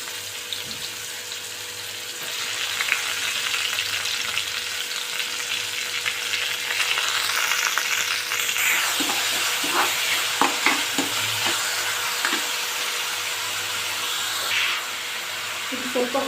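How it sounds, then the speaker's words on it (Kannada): Soybean kheema masala with green chili and crushed ginger and garlic frying in a pan, a steady close broadband sizzle throughout with occasional stirring scrapes and clinks. "ಕೆಂಪು ಬರೋ ಥರ ಫ್ರೈ ಮಾಡ್ಕೊಳ್ಳೋಣ."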